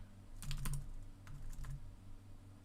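Typing on a computer keyboard during a coding session, a light cluster of close key clicks in two quick bursts over a low steady room hum.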